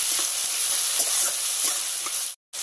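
Ground ginger-garlic and dried red chili paste fry with onions browned in oil for a fish curry with eggplant, giving a steady hissing sizzle with light stirring before a brief cut to silence.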